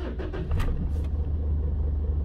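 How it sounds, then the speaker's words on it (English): A car with an ARB Linx system starts with a brief cranking burst, then settles into a steady low engine rumble at idle, close by. "so the car is now running"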